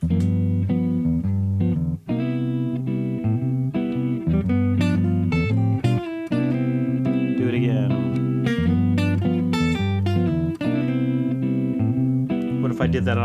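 Guitar arpeggios climbing and falling through major 7, minor 7, minor 7 flat 5 and dominant 7 shapes over a steady backing track, the notes picked one at a time and loud against the accompaniment, with no talking.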